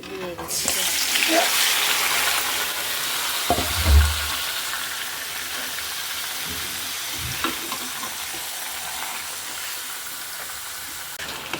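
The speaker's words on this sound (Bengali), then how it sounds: "এই যে আমি নাড়াচাড়া দিয়ে নিচ্ছি এখন দিয়ে কষিয়ে নেবো" Beef fries and is stirred in a pan, giving off a loud, steady sizzle. A spoon scrapes and knocks against the pan now and then, with one heavy thud partway through.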